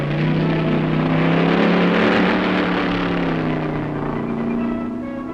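A race car engine at the 1965 Pikes Peak hill climb drones loudly and steadily, its pitch rising then easing as it pulls away.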